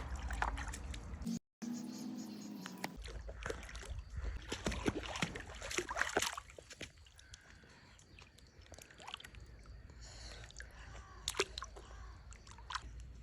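A young child splashes and slaps water by hand in a small backyard sandbox pool, irregular light sloshes and drips, with an adult speaking softly over parts of it.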